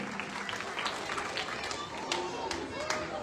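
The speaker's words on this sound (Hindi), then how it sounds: "बड़ी खुशी हुई, सभी ने ताली बजाई।" An audience at a Ram Setu stage event claps, a scattered patter of hands spread across the room, moderately loud and mixed with crowd noise and speech.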